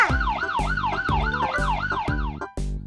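A toy police car siren wails in a rapid, repeating up-and-down sweep, loud and close, with a short break near the end before it starts again.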